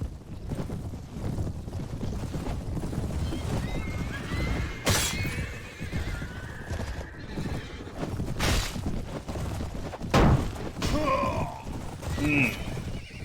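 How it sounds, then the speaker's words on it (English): Horse neighs and clip-clopping hooves ring out in a Mount & Blade Warband battle, set over a steady bed of wind and combat noise, with a couple of sharp whinnies standing out. "My horse is still moving pretty slow."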